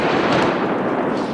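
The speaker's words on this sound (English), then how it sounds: "people from all over the Mill Valley area have been hearing and feeling it as the bomb squad detonated these explosives" A bomb squad detonates explosives near Castle Rock Road in the Mill Valley area, producing a dense, rumbling blast that rolls on without a break for over a second, heavy and broad, with no voices.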